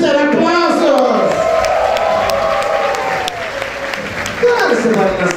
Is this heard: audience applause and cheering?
yes